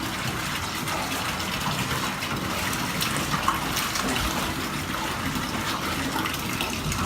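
Water sloshing in a bathtub as detergent is mixed in by hand while soaking a Stone Glacier pack, a steady churning gush heard alone and close throughout.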